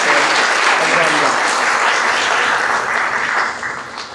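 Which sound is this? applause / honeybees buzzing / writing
applause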